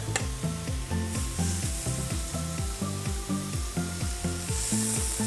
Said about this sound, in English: Gotta hear the sizzle.